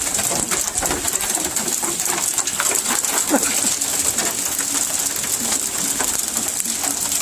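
Sizable hailstones falling in bright sunshine beside a car under repair, a dense, steady patter of many small impacts lasting throughout, loud and close with no talk over it.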